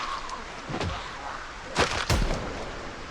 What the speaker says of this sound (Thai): เฮ้ยเสียงปืนตกใจหมดเลย